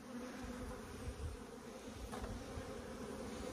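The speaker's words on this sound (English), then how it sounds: "Loads of bees here, behaving nicely." Honey bees buzz in a dense, steady drone at an open hive during an inspection of brood frames, close and continuous, with no talk.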